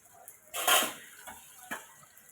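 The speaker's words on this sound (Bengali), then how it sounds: "এবার খুন্তি দিয়ে নেড়ে নিচ্ছি" A spatula scrapes and stirs spice paste in a pan for a Bengali fish curry, a faint clattering scrape followed by a couple of softer knocks.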